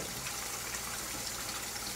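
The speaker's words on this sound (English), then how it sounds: "A little bit of ASMR with that water running." Water running from a kitchen tap while cooking, a steady hissing gush of liquid pouring continuously, fairly faint and alone without voices.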